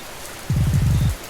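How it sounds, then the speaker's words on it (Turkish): Rain falls in the horror game Obsessed Trace as a steady soft hiss, with a brief run of low, rumbling pulses partway through. "Yağmur yağıyor."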